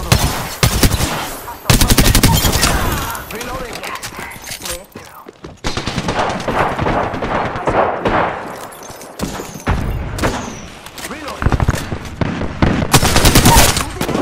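Rapid gunfire bursts from an Apex Legends match, loud and close, with repeated volleys broken by short pauses and heavy impacts, game effects layered throughout.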